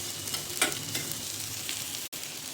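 Whole cloves, black pepper, mace, cinnamon, stone flower and coriander seeds dry-roasting in a pan, with a soft, faint crackle and a few light stirring scrapes, close up.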